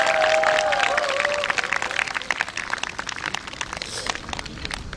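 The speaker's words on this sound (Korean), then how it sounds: "다시 한번 박수 부탁드리겠습니다." Outdoor audience clapping at a busking contest performance by Gangneung's Gyeongpo Lake, a scattered mix of claps over crowd noise and a brief tonal note at the start, fading into lighter, sparser applause.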